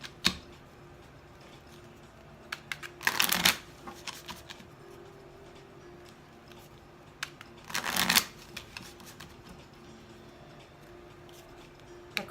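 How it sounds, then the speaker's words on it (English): Tarot cards being shuffled in two distinct bursts of crisp riffling, each lasting under a second and spaced several seconds apart, with faint ticks and handling noises in a quiet room between them. "we're gonna pull out cards for you."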